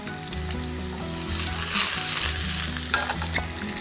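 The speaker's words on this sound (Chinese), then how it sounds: "口蘑先下锅炒一炒" Button mushrooms stir-fried in a wok for a Chinese New Year reunion dinner, giving a steady, close sizzle with scraping and tossing, while low droning music plays underneath throughout.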